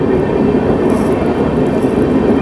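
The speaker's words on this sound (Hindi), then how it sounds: "यहाँ पे अपनी अमृत भारत एक्सप्रेस एक्सीलरेट करते हुए" Amrit Bharat Express hauled by a WAP7 electric locomotive accelerating, a loud, close, continuous rumbling roar of wheels and traction with steady rushing noise throughout.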